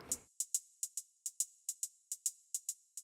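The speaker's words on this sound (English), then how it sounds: "Then I have this hi-hat," Crisp hi-hat hits in a swung triplet pattern, bright and airy with a short reverb tail, alone after a brief low thump at the start.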